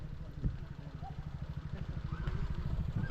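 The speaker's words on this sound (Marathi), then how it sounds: "आता हा अनिकेत चाललाय पुढे बाईक घेऊन." A motorcycle engine putters with a low, rapid pulsing throb, fairly close and steady, riding on a muddy path, with faint voices in the background.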